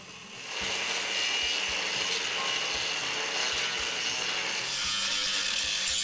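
A cutting tool working along a groove in a metal vehicle frame in a garage, several passes run together as a loud, continuous rasping grind that stays steady throughout, up close with no talking.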